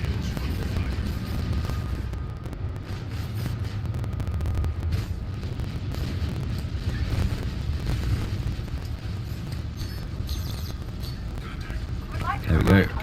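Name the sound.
explosion of a ship in the video game Elite Dangerous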